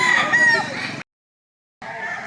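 A fighting rooster crows loudly and close by in one long call, goes silent for a moment, then starts another crow.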